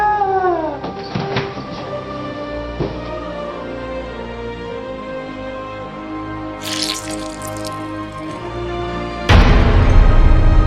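A cat meows and caterwauls in a children's cartoon scene, with several drawn-out cries early on over dripping water, then a sudden loud burst near the end.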